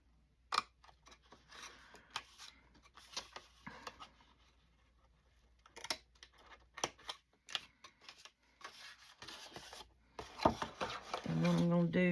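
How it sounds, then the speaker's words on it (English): Scissors snip through collage paper pieces for a peach rose journal, giving a handful of close, sharp cuts scattered between quieter handling sounds, with louder rustling near the end. "So I want to snip these bits right here."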